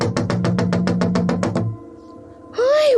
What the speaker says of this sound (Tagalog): bigla siyang binulabog ng isang malakas na pagkatok sa kanyang pintuan